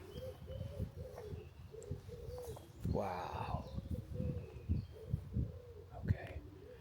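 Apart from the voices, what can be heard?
pigeons cooing in Orléans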